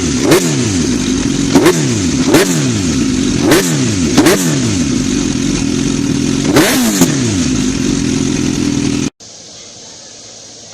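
A 2006 Suzuki GSX-R1000 with a Yoshimura exhaust, warming up from a cold start, is blipped in a series of six loud, close rev-and-drop cycles over a rumbling idle, then the sound abruptly cuts to quiet.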